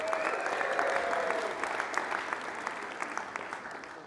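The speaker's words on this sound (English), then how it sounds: "So let's clap it up for our generous host" A live audience claps steadily for the host venue, Palisades Tahoe, at an indoor winter speaker event, the dense applause filling the room throughout and thinning slightly toward the end with a few sharper individual claps.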